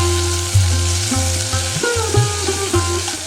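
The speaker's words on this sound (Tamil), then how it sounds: "தக்காளி நல்லா குழைவாக ஆற வரைக்கும் வதக்கிக்கோங்க" Tomatoes sautéing in hot oil with mustard seeds, chillies and curry leaves for pepper rasam, a steady close sizzle and crackle with a few scraping stirs of the pan.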